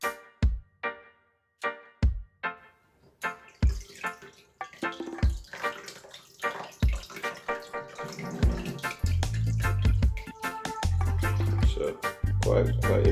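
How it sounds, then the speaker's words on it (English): Grapefruit, carrot and ginger juice pours and trickles through a strainer, starting as separate drips and splashes and building into a steady liquid stream, close and fairly loud. "normally I just like to run it back through the strainer just to get out anything."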